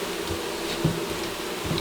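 Bees buzz continuously at close range around a hive being rescued from a wall, a steady droning hum with no one speaking.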